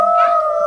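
A person's voice imitates a wolf howl, a single sustained, steady tone held close and loud for under a second.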